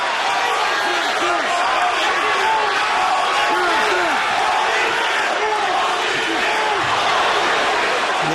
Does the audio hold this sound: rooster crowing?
no